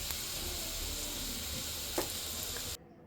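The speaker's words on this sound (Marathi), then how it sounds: "तव्यावर थोडंसं तेल टाकून त्यामध्ये आपल्याला याला चरका द्यायचा आहे" Fresh farm garlic sizzles in a little oil on a tava for a tempering, a steady bright hiss with a brief pop near the end before it cuts off abruptly.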